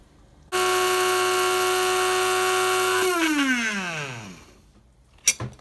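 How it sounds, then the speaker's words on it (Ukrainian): Electric coffee grinder whirring as it grinds small batches of dried mushrooms into powder, a loud steady motor whine that runs for a few seconds, then winds down in falling pitch, followed by a couple of brief clicks. "Маленькими порціями викладаємо наші грибочки у каву молку. Будемо перемелювати."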